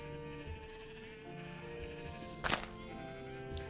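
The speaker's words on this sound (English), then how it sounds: "I'm just going to go ahead and spawn in a whole bunch of sheep." Sheep bleat in the OrgelCraft video game over steady background music, with a sharp thump partway through; nobody speaks.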